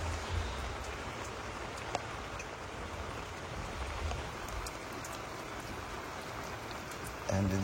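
Rain falls on the Sundarbans coast around a trawler where people shelter, a continuous, even patter and wash at moderate level with a brief knock near the end.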